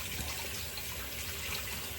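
Hot water runs steadily from a bathroom tap, a constant close rushing hiss with no pauses, filling the basin before a safety-razor shave.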